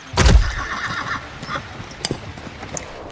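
A horse gives one loud whinny near the start, followed by a few scattered hoof clops. It is close by, in a storm journey setting, with no talking.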